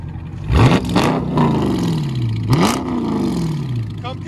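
A 2020 Dodge Charger Scat Pack with a 6.4L HEMI V8 and straight-piped dual exhaust, muffler and resonator deleted, revs hard twice nearby, each blip rising to a loud roar and then falling slowly back to a rumbling idle.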